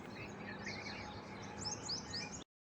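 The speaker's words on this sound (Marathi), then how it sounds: "बघा किती छान आणि मस्त असं पक्ष्यांचा किलबिलाट" Birds chirp and tweet on a village morning in a steady chorus of high, overlapping calls, fairly faint and close to distant, with no talk, before the sound cuts off abruptly near the end.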